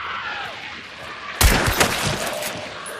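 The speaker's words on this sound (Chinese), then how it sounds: "好多枪声啊" Video game gunfire during a boss fight: a sudden loud burst of shots rings out partway through after a quieter lead-in, followed by rapid repeated cracks.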